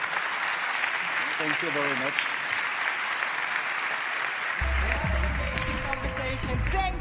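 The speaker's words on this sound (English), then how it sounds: "Big round of applause for our panel." Audience applause for a conference panel at DPW Amsterdam 2025, steady broadband clapping throughout, with a brief spoken thanks over it and amplified music entering partway through.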